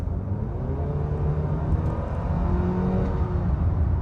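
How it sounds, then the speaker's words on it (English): A 2026 Nissan Sentra SL engine hums steadily and rises slightly in pitch as it is revved gently, a smooth, moderately loud drone with no talking. "I'm revving it up a little"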